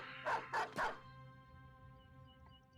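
Dogs in the video game Battle Brothers give three quick, loud barks in a row, followed by a quiet background of sustained game tones.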